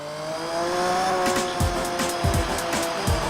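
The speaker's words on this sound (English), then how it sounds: "Did this car really sound like this?" Racing car engine in the Gran Turismo 4 video game for PS2, an old Le Mans prototype, droning steadily with rising and falling revs and several sharp low bursts like gear shifts or backfires toward the end.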